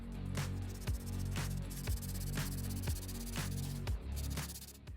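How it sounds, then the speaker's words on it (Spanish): Very fine sandpaper is worked by hand over a workpiece, making rhythmic strokes of dry, hissing scratches about twice a second. The sound is close, steady and alone. "Ahora con una lija muy fina lo voy a refinar."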